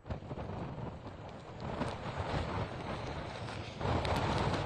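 Strong wind roars steadily during a cyclone's landfall on the coast, a loud continuous broadband rush that swells and gusts, buffeting the microphone with no voices.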